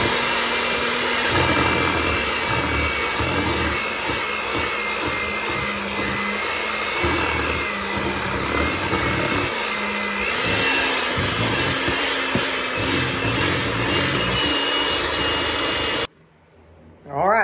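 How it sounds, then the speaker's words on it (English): An electric mixer beats cheesecake filling until creamy, a loud, continuous close-up motor whir lasting about sixteen seconds before it stops abruptly. "So now we got to beat this up and get it creamy."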